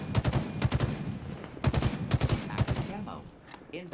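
Bursts of rapid gunfire from the shooter game Halo Infinite, loud close volleys in several clusters separated by brief pauses, tapering off near the end.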